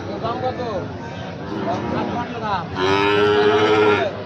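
A Pakistani-breed Sahiwal bull calf at a village cattle market lowing in several drawn-out, wavering moos, close and loud, with a longer louder call near the end and people talking in the background.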